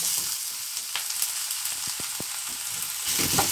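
Vegetables with green chillies sizzle loudly in a hot pan for cabbage tempering, with a steady frying hiss, a few sharp spoon taps and scrapes from stirring, and the sizzle swelling toward the end.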